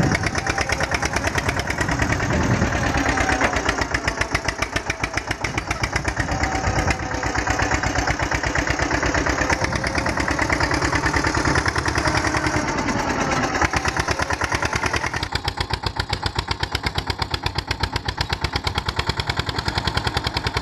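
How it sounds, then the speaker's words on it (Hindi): Eicher 241 tractor engine idling close up, a loud, fast, evenly pulsing diesel thump that runs steadily throughout with no talk over it. "आइसर ट्रैक्टर है।"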